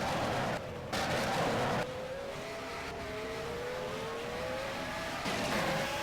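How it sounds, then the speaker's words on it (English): V6 race car engines from a racing video game wail and shift in pitch as the cars accelerate, a continuous loud howl with rising tones and brief gear-change dips, with no voices over it. "I quite like the V6 sounds."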